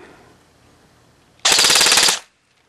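A Code-8 PTW airsoft gun loaded with G&G .25 bio BBs fires one rapid full-auto burst of just under a second. The rattle is loud and close, with quiet room tone before and after.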